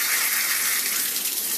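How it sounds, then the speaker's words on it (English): Water gushes from a bathtub spout while the shower diverter is pulled up, making a loud, steady, close-up rush of running water with no pauses. "you can see all the wasted water there that's not going up to the shower head"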